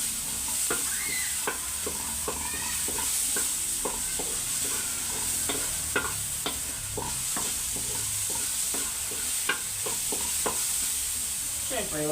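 Onions sizzle steadily in a hot pan while a utensil stirs them, with repeated sharp scraping taps over the constant frying hiss, close up and without talk.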